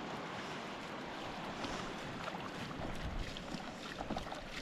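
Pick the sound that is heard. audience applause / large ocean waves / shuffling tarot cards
large ocean waves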